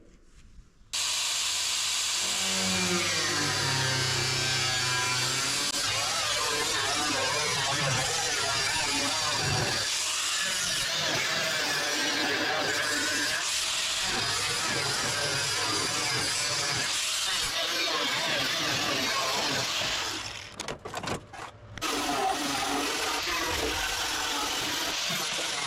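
Continuous harsh hissing of a cutting tool slicing the rear quarter panel of a rare oval-window Volkswagen Beetle truck, long and steady with brief breaks near the end.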